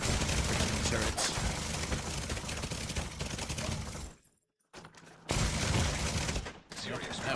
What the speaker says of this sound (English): That was a turret.